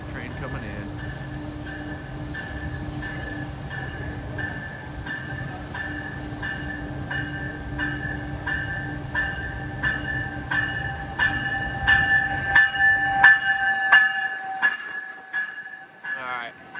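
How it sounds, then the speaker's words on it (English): A train pulls into a Sacramento station with a steady rumble, ringing tonal squeal from the wheels and rails, and rattling clatter growing louder as it arrives, with a voice briefly over it. "Filming the whole process. Train coming in."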